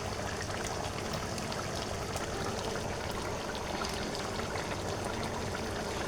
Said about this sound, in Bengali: আর দিয়ে দেব আমি টমেটো সস